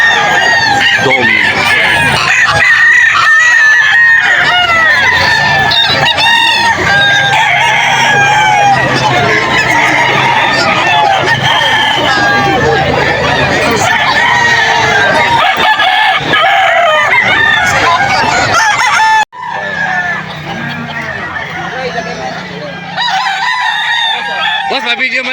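Roosters crow loudly and repeatedly near by at a pet market in Bocaue, Philippines, mixed with clucking fowl and people talking over the din.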